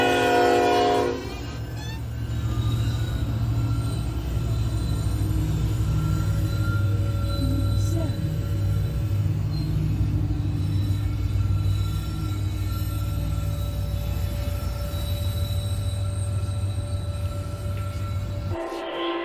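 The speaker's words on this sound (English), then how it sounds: "Listen to that beautiful K5 LLA." Norfolk Southern NS310 locomotive with a K5LLA five-chime horn passing with a BNSF ET44C4 trailing: a loud, sustained chord blasting close over heavy rail rumble that fades abruptly near the end.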